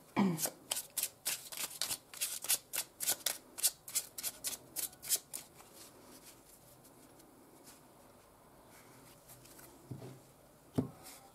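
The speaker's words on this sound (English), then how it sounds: "Let's get the clarifiers before I start diving in" A tarot deck is shuffled in quick, rhythmic riffling bursts, crisp and close for several seconds, then quieter until a few more card snaps near the end.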